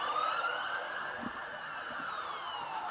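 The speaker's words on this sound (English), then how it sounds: "Once again, the siren's blaring here." At an Adelaide Hills country football ground, a siren wails with rising and falling pitch, sustained and fairly loud across the whole moment, with no talk over it.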